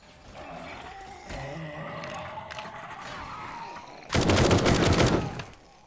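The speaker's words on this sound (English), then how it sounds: "I got the turrets out there, so the turrets are shooting" Turrets in a zombie kill box in the 7 Days to Die survival game fire a loud, rapid burst lasting about a second and a half. Before it come a low rumble and a faint growl.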